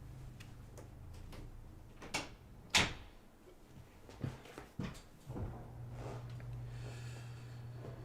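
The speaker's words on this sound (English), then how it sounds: "me shut my door real quick." A room door is pushed shut in a home setting, a few soft knocks and one firmer thud of the door closing, fairly faint against a steady background hum with no talk.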